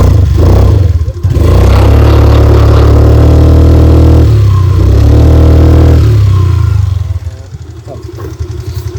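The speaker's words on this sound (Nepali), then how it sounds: "यसरी मैले किक हान्ने बित्तिकै अहिले बाइक स्कुटर स्टार्ट भएको छ।" An old Honda Dio scooter, converted to an electric and petrol hybrid, runs right after a kick start. Its small engine putters loudly and steadily up close, with brief dips and rises in revs.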